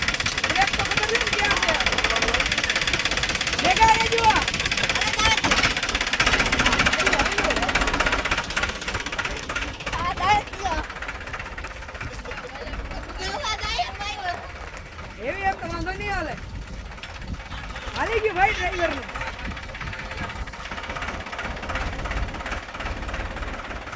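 A tractor engine chugs and knocks steadily nearby while people talk over it, the engine noise dominating early then easing under the voices.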